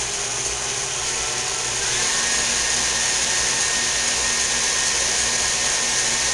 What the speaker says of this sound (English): Let's go back over to the mixer after it's reached 230 degrees and start whipping up your egg whites.